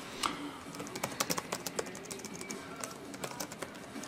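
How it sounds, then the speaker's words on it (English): Quick, irregular key taps on a computer keyboard, close and fairly quiet, coming in short bursts with no talking. "typing it into Google now."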